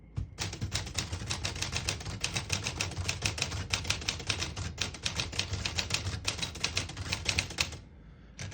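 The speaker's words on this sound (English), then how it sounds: "Very nice typing machine." A 1949 Smith-Corona Silent portable typewriter in excellent condition being typed on, a fast, steady stream of crisp key strikes running for several seconds close by, ending in a brief pause.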